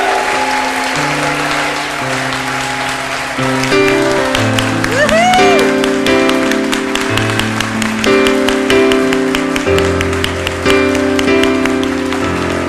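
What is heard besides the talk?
audience applause for new members at a service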